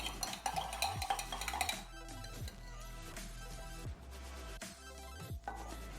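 A Bee's Knees–style cocktail with honey syrup being stirred quickly, with soft clinking and scraping of a spoon against ice and glass in a few quick passes, quiet and close.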